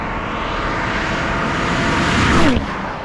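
A Toyota Supra sweeps past at about 140 mph, a steady rising roar that peaks close by with a sharp pitch drop as it passes, then fades slightly, with no talk over it.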